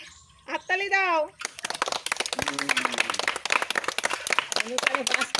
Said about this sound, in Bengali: বাবা হাততালি দাও।